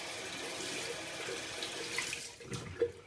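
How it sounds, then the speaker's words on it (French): Running tap water streams steadily into a sink as a konjac sponge is rinsed beneath it, with a few splashes and a louder wet slosh near the end. The sound is close and continuous, and no one talks. "Je prends mon éponge de konjac, je la rince."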